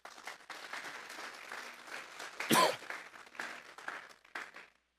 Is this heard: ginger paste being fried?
no